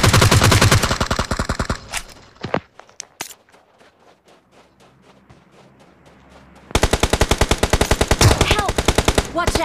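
Rapid automatic gunfire from a first-person shooter video game, loud sustained bursts at the start, a quieter stretch of scattered single shots and footsteps in the middle, then another long, dense burst of fire.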